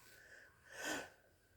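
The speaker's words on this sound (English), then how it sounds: "I had to sneeze." A small baby gives a brief breathy sneeze, a single soft burst rising and fading near the middle, quiet and close against a faint background hum.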